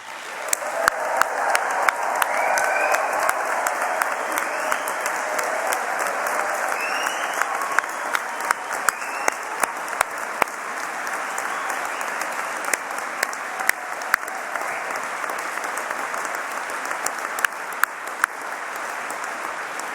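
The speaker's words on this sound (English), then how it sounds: "Can we just give them a great big cheer?" An audience claps and cheers for graduates at a university ceremony. Sustained, dense applause runs throughout, with sharp individual claps and occasional whoops standing out.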